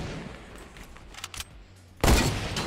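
Rifle fire in the Fortnite video game: a few faint scattered shots, then a sudden loud, close burst of gunfire near the end.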